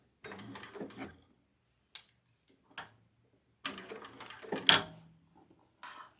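A sewing machine stitches handbag fabric in two short, even runs separated by quiet pauses, with a close, steady mechanical whir and a few soft clicks.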